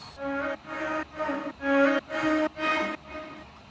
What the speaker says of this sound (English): I also have the vocal chops in the background just kind of like coming in